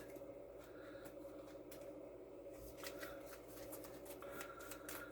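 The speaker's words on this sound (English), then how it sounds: "Then I'm going to be shuffling these cards into it." A deck of board game cards is shuffled by hand in a run of soft, quick riffling and flicking bursts, faint and close over a steady low background hum.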